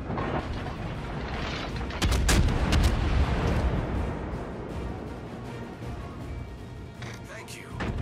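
Heavy naval guns from a fleet of battleships and cruisers in a game, booming and rumbling in dense overlapping volleys, with a loud cluster of blasts in the middle, under a continuous low roar.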